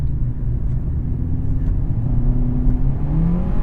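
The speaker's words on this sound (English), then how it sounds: "If I put this over in manual, let's do some downshifts." A 2022 Hyundai Accent with a CVT revs steadily through manual-mode downshifts, its engine holding a loud, continuous rumble that rises in pitch in short swells, heard alone from inside the car.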